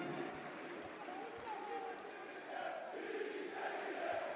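A basketball crowd roars inside an Istanbul arena during a EuroCup Women final, a sustained din of cheering and shouting voices with a commentator talking over it throughout.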